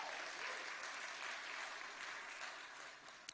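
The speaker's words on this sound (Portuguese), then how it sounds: "aplauda o Senhor nessa noite" A congregation applauds during an evening church service, with steady, dense clapping filling the room throughout and fading slightly toward the end.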